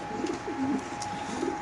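Racing pigeons cooing close by, a few soft low throaty coos rolling in and out over a faint steady background hum.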